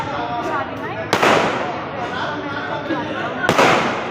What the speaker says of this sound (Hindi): बहुत ज़बरदस्त आतिशबाजी हो रही थी